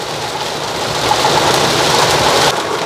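Heavy rain falls steadily during a road trip from Itanagar toward Balipara and Bhalukpong in North East India, a dense continuous wash mixed with a low vehicle engine rumble, close and loud with no talking.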